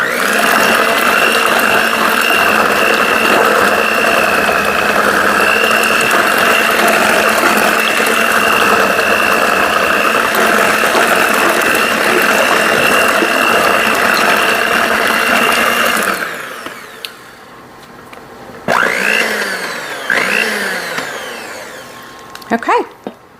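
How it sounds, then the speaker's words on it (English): An electric hand mixer whirs loudly and steadily as its beaters churn lemon bar filling, then shuts off, leaving brief scraping and clatter from the bowl. "Going to take my beaters and mix around the sides"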